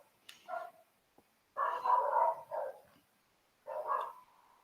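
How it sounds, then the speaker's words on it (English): Dogs somewhere in the neighbourhood bark in several separate bursts: a short yelp first, then a longer run of barks, then one more burst, moderately near and unaccompanied by talk. "if you can hear dogs barking, it's just for neighbours"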